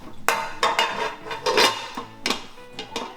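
Metal pots, pans and dishes stored in boxes are handled and knocked together, giving a quick run of bright clanks and rattles with short gaps between them and no voices.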